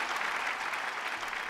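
Children clap together for a finished picture, a brief burst of dense, lively applause from a small group indoors, steady for the whole moment with no voices.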